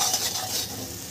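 Spices with chilli powder and salt sautéing in a hot pan give a loud, continuous sizzle, with close stirring and scraping running throughout and no voices.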